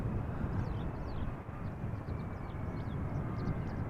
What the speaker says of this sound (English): This is Delta Airlines Flight 74, Airbus A330-300 arriving from Atlanta, Georgia.